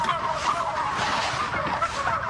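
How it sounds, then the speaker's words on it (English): Dense flock of turkeys on a Pennsylvania poultry farm run without antibiotics, a steady close chorus of overlapping gobbles and clucks with no talk. "Wow, a lot of turkeys."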